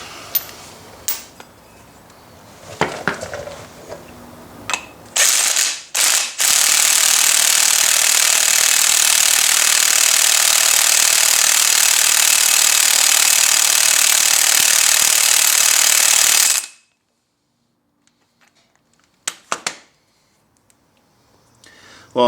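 An impact wrench on the lug nuts of a commercial mower wheel rattles in one long, loud burst of about ten seconds, preceded by a few short clanks and followed by near silence with scattered taps.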